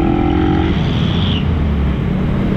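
Loud, close road traffic with car and motorcycle engines rumbling and revving past in a continuous busy wash, no talk over it.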